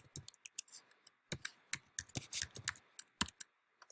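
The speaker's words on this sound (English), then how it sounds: "So I'm going to type that in." Typing an admin password on a Mac keyboard during a software install, heard as a quick, close run of crisp key taps in uneven bursts with short pauses between them.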